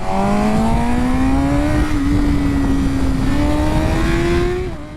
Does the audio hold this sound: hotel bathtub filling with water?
no